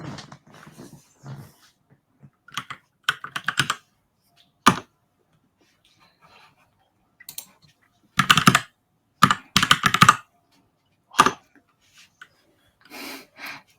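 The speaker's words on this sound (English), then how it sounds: "Are you impressed? The keyboard." Clacky computer keyboard typing arrives in short, irregular bursts of crisp keystrokes separated by quiet pauses, close and fairly faint.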